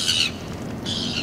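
Angry gulls squawking near a boat, loud high-pitched harsh calls in two bursts separated by a short lull.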